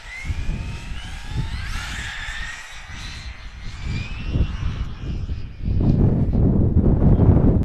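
Traxxas Slash RC car with a short-course body speed testing, its electric motor whining as it races past with rising and falling pitch, then roaring louder close by over gusty wind noise, no voices.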